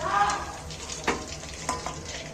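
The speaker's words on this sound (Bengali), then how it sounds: "ভাজা হয়ে গেছে আস্তে দেখছো যে একটা চোয়াচোয়ানি আওয়াজ সেটা কমে গেছে" Pakoras frying in hot oil give a steady, moderate sizzle that is already easing off, with a few sharp utensil clicks against the pan along the way; no talking.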